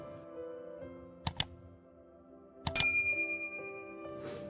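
A notification bell sound effect: two quick metallic clicks, then a bright ding that rings out and slowly fades, heard alone against a faint background.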